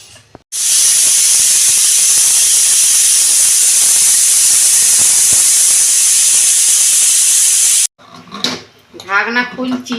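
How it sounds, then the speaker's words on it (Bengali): A pressure cooker of mutton curry on a gas stove lets out a loud, steady jet of hissing steam for about seven seconds, then cuts off abruptly and a person begins talking. "প্রেসারের ঢাকনা বন্ধ করছি, গ্যাস জ্বেলে দিয়েছি, সিটি পড়ুক।"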